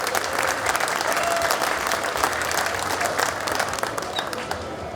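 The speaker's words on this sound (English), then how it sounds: "Give them a big round of applause." Sustained audience applause at the MCACN 2025 classic car award ceremony for the Emerald First Time Shown Award winners, an even, dense roar of many hands clapping throughout with some crowd murmur.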